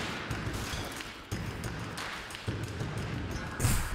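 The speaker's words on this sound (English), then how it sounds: "They're shooting at me with guns." Enemies fire guns in the video game Ape Out, heard as several sharp bursts of shots over dense, busy game noise, fairly loud and close.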